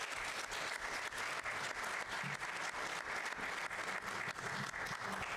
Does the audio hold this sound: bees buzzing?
no